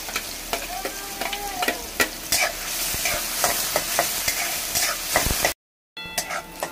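Finely chopped onion fries in hot oil with curry leaves, making a constant crackling sizzle with frequent sharp stirring clicks and scrapes. A brief silent gap comes near the end.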